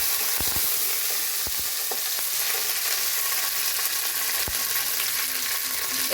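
Onions and raisins frying in a pan for special bhuna khichuri, a steady dense sizzle with occasional sharp pops and clinks of a utensil stirring, close and continuous with no talk.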